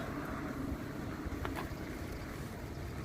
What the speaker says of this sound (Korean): 바람이 많이 부네요